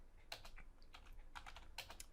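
Fast, uneven clatter of typing on a computer keyboard, close and quiet, with keystrokes arriving in small clusters over a low background hum.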